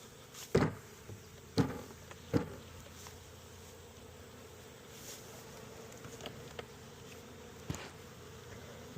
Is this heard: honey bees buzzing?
yes